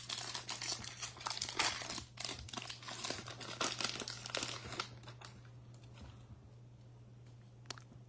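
A foil trading-card pack wrapper for a football card break is torn and crinkled open up close, a dense run of crackling rustles that thins out and fades into quiet near the end.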